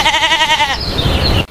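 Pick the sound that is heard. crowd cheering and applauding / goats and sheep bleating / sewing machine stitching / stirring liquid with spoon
goats and sheep bleating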